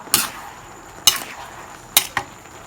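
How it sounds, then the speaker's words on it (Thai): Mama instant noodles with seasoning and a little sugar stirred in a pan, giving four sharp scraping utensil strokes spaced about a second apart over a faint sizzle, close and fairly quiet. "คนส่วนผสมทุกอย่างให้เข้ากัน"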